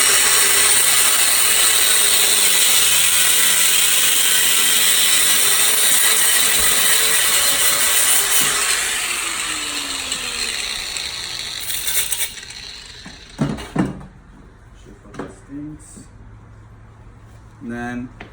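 A braided AN hose line clamped in place is cut with a loud power tool, a sustained high-pitched whine for several seconds that winds down, followed by scattered metallic clicks and clatter.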